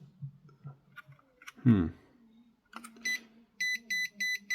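Broken multimeter emitting a series of four evenly spaced electronic beeps near the end, preceded by handling clicks and a brief rustle, close and clear.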